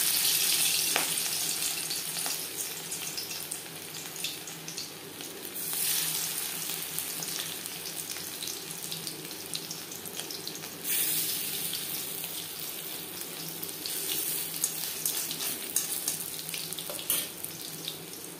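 Prawn chops fry in hot refined oil over a medium flame, giving a continuous bright sizzling hiss with fine crackles that swell and ease in waves, close and with no talking.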